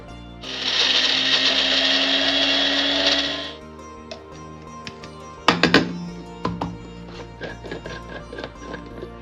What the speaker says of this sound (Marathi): थोडंसं जिरं थोडंसं ओवा हे आपण वाटून घेऊया